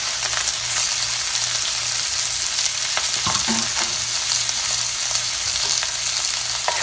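Shrimp fry in a pot with a loud, continuous sizzle and occasional stirring clinks and scrapes, close and uninterrupted by talk.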